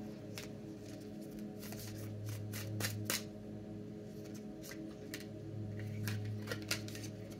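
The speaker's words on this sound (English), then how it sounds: "This deck is difficult to shuffle. It clumps up." A tarot card deck that clumps up is shuffled by hand, giving a run of crisp, papery riffles and snaps over a steady low hum, close and fairly quiet.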